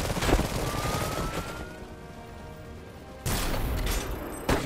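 Gunfire in the Iron Harvest video game: several loud bursts of shots and blasts, with a quieter stretch between them and an abrupt heavy burst near the end.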